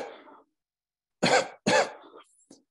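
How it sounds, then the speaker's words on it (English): Two loud, close coughs in quick succession from a horn symposium audience, followed by a softer short cough, with a faint murmur before them and quiet gaps between. "I want you all to cough"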